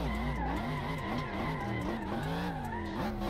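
Car drifting in the racing game Assetto Corsa, a steady loud engine drone with wavering pitch and sustained tire squeal running continuously without a break.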